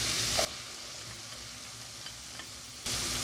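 Onions frying with cumin seeds in a hot pan for a potato and egg curry: a close, steady sizzle with a louder burst at the start and again near the end, with no talk over it.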